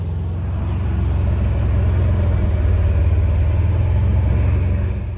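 Tuned Polaris Ranger UTV fitted with Duraclutch and Gilomen Performance parts driving through deep snow, a steady, close, low engine drone and rumble held at an even throttle throughout.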